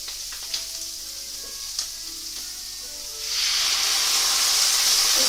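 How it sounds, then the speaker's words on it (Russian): Steak sizzles gently in a pan with a couple of light clicks, then vinegar is poured in and a sudden loud, hissing burst of steam takes over and holds steady to the end. "Теперь я добавляю наш а-ля уксус."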